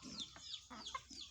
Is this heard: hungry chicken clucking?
yes